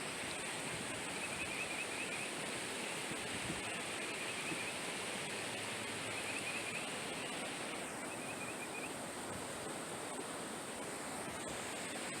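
Floodwater from a swollen river runs across a park path, a steady broadband rush and wash filling the whole scene, with faint birdsong chirping above it.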